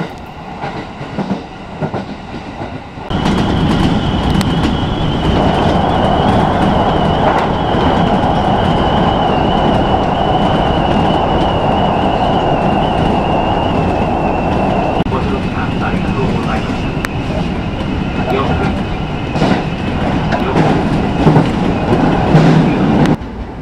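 Kintetsu Nagoya Line train running on rails, loud and close, a sustained roar with rhythmic clickety-clack and wheel squeal that swells after a quieter opening, while an onboard announcement voice speaks over parts of it.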